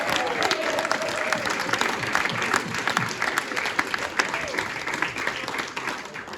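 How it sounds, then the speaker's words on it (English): A crowd at a pre-Chanukah panel event gives sustained, dense applause throughout, with voices mixed into the clapping. "a huge clap once again for our extraordinary Australians"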